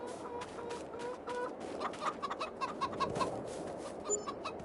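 Chickens cluck repeatedly in the farming game Farming Simulator 22, with several close, rhythmic clucks and short calls over a steady farmyard background and no voices.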